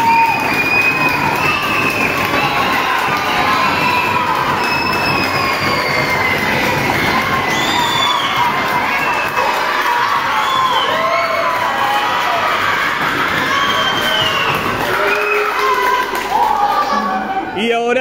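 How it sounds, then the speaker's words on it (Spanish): A crowd claps and cheers continuously at a children's football season closing event, with high children's voices shouting over steady applause throughout. "Fuerte el aplauso para Guille"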